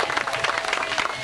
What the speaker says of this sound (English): let's give a nice round of applause to my friend and partner, Luigi.